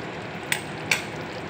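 Spiced potato curry stirred in a hot pan, a steady low sizzle of frying broken by two quick scraping strokes of a spoon.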